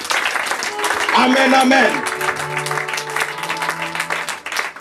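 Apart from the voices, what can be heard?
congregation applauding in church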